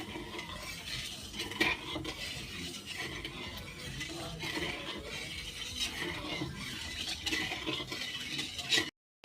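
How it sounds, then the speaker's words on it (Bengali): A spatula scraping and stirring sugar melting in water with cracked cardamom pods in a pot, steady soft clinks and scrapes throughout, fairly quiet, ending abruptly. "ভালো করে চিনিটা গলিয়ে নেব, খুন্তি নেড়ে নেড়ে চিনিটা গলিয়ে নেব।"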